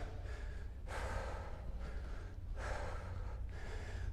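Heavy breathing during an intense leg workout, strong rhythmic inhales and exhales, three or four deep breaths close to the mic, with no speech.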